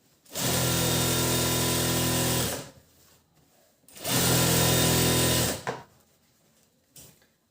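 A sewing machine stitches lining into a blouse, running loud and steady in two long bursts of about two seconds each, with a short pause between them and a few soft clicks at the end.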